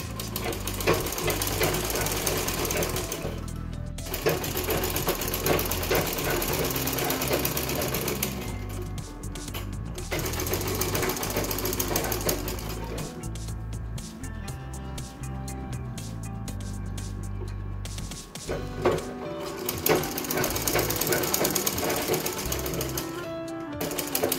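Sewing machine stitching blouse sleeves, loud rapid mechanical chatter in bursts separated by short pauses, close by and alone without speech.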